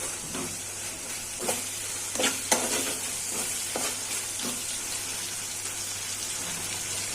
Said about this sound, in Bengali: তার জন্য মশলাটা কষাই নিতে